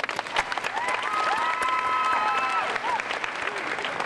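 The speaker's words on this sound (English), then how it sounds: "Please give them a round of applause." Applause from a middle school graduation audience for board members and teachers, moderately loud clapping throughout, with a faint tonal whistle or feedback-like tone rising briefly over it.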